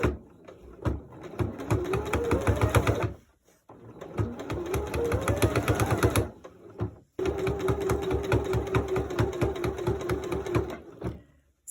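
A sewing machine with a bilevel foot stitches quilt binding in three close runs, each a steady rapid mechanical thumping that ramps up in speed and pitch, with brief pauses between and no talk.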